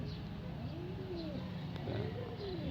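A racing pigeon coos in agitated, drawn-out calls, several low warbling phrases close by over a steady background hum.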